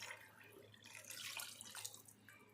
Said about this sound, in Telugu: ఇదిగోండి నేను ఇప్పుడు ఇలా వాటర్ వేసుకుంటున్నాను